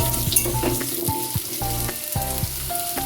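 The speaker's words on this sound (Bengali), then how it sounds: "ডুমো ডুমো করে কেটে রাখা আলুটা দিয়ে ভেজে নিচ্ছি।" Diced potatoes fry in a pan with a close, crackling sizzle, broken by repeated short scrapes and taps of a spatula in an uneven rhythm.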